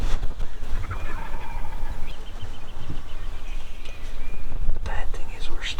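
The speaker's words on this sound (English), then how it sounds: "We started hearing some gobbles about 700 to 800 yards away" A wild turkey gobbler gobbles in the distance across a Missouri hunting setting, heard as faint, brief calls over steady outdoor background noise, with quiet whispering voices nearby.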